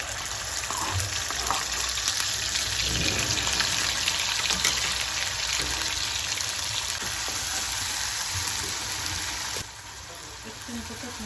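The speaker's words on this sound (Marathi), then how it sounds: "इथे मी कढईमध्ये तेल तापत ठेवलेलं आहे त्याच्यामध्ये मसाला टाकून घेते" Masala frying in hot oil in a kadhai wok while a home-style mutton thali is cooked, giving a loud, steady, close sizzle that continues throughout and eases slightly near the end.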